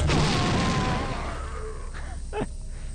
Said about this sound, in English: Then I'm gonna blow him up with a grenade launcher.